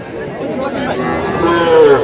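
Young calves at a crowded livestock market, a drawn-out moo rising near the end over a background of people chattering nearby.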